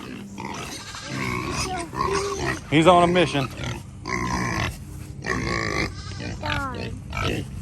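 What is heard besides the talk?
pig grunting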